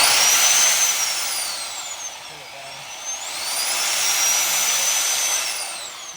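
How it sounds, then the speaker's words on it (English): A power breaker chiselling out cementitious mortar joints in stone pointing work, heard as a loud, close, high motor whine that swells, dips for a moment, then rises again. "So once we've broken out this top coat of cementitious mortar, we'll show you how we break out the lime mortar behind."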